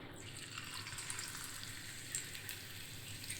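Corn pakoda batter hissing and sizzling in hot oil, a steady close-up frying crackle with small bubbling pops throughout and no talking.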